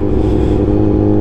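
A Kawasaki Ninja 1000 with an aftermarket exhaust revs loud and steady on the São Roque mountain road, a dense close engine roar with no pause over the short burst.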